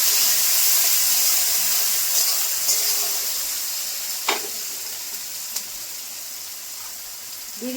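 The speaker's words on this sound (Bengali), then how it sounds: "পেঁয়াজ দিয়ে দিচ্ছি।" Sliced onions sizzle steadily in hot oil in a pan for a Bengali egg and masoor dal kofta curry, a loud continuous hiss with a couple of faint clinks of a spoon, no voices.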